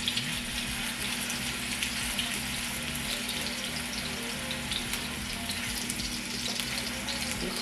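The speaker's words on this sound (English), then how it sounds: "we got a sizzle going on there" Spinach chicken burger patties sizzle steadily in hot olive oil in a pan, a dense, continuous crackle and hiss with small pops throughout, close and even in level, with no talking.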